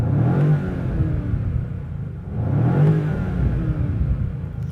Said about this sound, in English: Yeah, the engine sound is great.